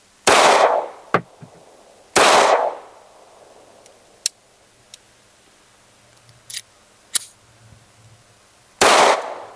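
Three loud, sharp gunshots from a SCCY CPX-2 pistol fired at a shooting range, well spaced with fainter clicks and clanks between them.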